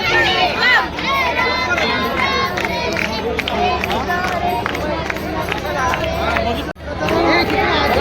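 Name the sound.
crowd at Ganesh immersion ghat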